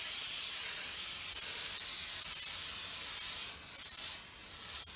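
A spray can mists clear lacquer onto a model P-51 Mustang plane in a steady, soft, continuous hiss, with a short dip in the spray before it resumes.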